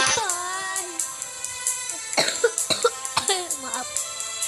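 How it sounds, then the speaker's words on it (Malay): A person coughs several times in short, close bursts that are loud and raspy, with speech heard around the coughs. "Maaf. Batuk."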